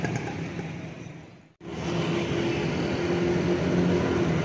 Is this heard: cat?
no